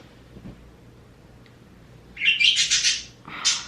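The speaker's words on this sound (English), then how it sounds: "My birds, guys." Bright, rapid chirping and tweeting from small pet birds near the end, close by, over a quiet background hum.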